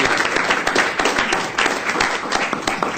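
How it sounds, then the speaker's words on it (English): An audience applauds a water department staff member at a recognition event, a dense, steady wash of many hands clapping close by for the full stretch, with no voices over it. "let's give this guy a round of applause"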